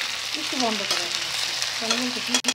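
Potatoes fry with cumin and dry chili paste in a close, steady sizzle, with a faint voice murmuring underneath and a brief stirring knock near the end.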